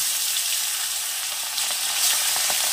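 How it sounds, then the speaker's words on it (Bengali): Bele fish coated in salt and turmeric fry in hot oil, a loud, steady crackling sizzle heard up close throughout, with faint stirring sounds and no speech. "এগুলো জাস্ট ভেজে নেব"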